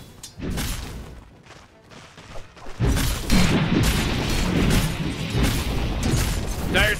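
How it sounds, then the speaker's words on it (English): In Dota 2, Dire's middle tower crumbles under attack with a deep booming crash, followed by sustained rumbling destruction and battle noise, loud and continuous with no voices. "Dire's middle tower just took a big beating. It's gone."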